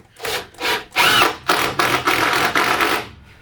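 A power drill drives screws into wooden workshop furniture in a series of short bursts, each whirring pulse stopping and starting in quick succession, close and fairly loud.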